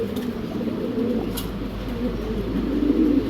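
Racing pigeons cooing at a bird market, soft repeated low coos close by over a steady background hum.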